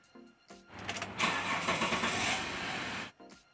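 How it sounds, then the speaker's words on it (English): A car engine cranks briefly, then catches and fires up into a loud, steady rumbling idle before cutting off abruptly. "now it's time to start the engine up"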